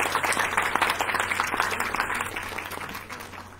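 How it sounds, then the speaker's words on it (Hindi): Audience applause for a speaker at a university event, steady clapping from a crowd heard over a low hum, holding at moderate loudness and easing slightly toward the end. "आप सबकी भरपूर तालियों में"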